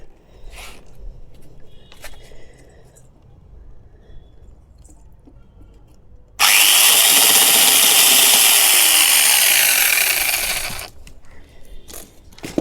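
A homemade chainsaw machine starts cutting after quiet handling noises, a loud, harsh, steady whine of chain biting into material for about four seconds before it stops abruptly, followed by light clatter.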